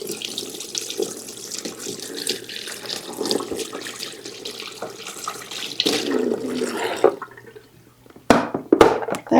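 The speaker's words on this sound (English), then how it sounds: "I've got to rinse my hands off" A kitchen tap runs steadily as hands are rinsed off after cutting sweet onions, splashing into a sink at close range, then cuts off before a few sharp clatters.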